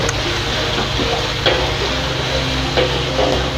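Ingredients sautéing in a pan for Betawi ketupat vegetable stew sizzle steadily and loudly up close, with occasional soft scrapes and taps of a spatula stirring.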